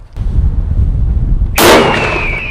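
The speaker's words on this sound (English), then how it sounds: "Just a huge explosion there." A single loud gunshot strikes a block of lead, bursting into a sharp, violent impact with a ringing metallic tail, heard on its own after a low rumbling background.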